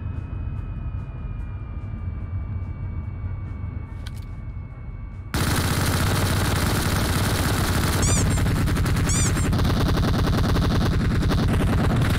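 Automatic weapon fire in PUBG Mobile, a loud, dense burst of rapid shots that runs for several seconds after a quieter stretch of engine and ambient game noise, with brief whooshing effects layered on top.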